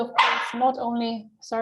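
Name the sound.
dog barking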